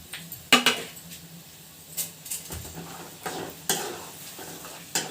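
Peanuts with mustard seeds, chana dal and cumin stirred in a hot pan for lemon rice, a spoon scraping in sharp, irregular strokes over a soft sizzle, close and alone with no voices.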